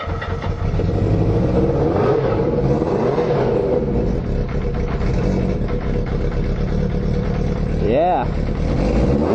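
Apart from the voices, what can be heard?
KZ 750 motorcycle engine starting and revving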